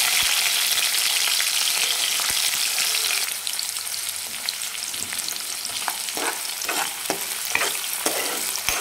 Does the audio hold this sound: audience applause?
no